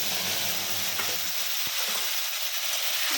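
A masala of ginger, green chili, cumin and tomato frying in hot oil for a potol chingri dish, a steady close sizzle with a brief stirring knock partway through.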